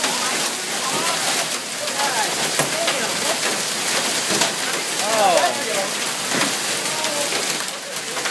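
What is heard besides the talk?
hail falling during a severe storm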